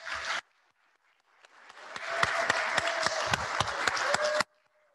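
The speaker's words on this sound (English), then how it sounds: "Clap for him again, please." A church congregation at a July 4 worship service claps for a young performer after his first performance. A brief burst is followed by a pause, then sharp, close claps swell into steady applause before stopping abruptly.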